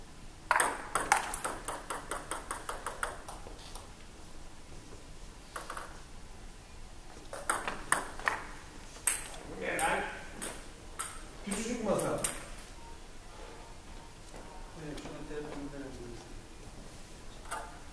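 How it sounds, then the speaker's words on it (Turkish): A phone rings with a quick run of repeated electronic pinging tones at the start, followed by clattering and people talking nearby. "Telefon mu çalıyor?"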